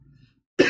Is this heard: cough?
yes